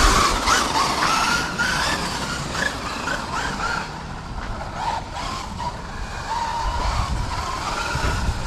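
A small RC car whines around a circuit, its motor pitch rising and falling as it passes close by and recedes. Tires scrub and skid on the track, with no voices over the sound.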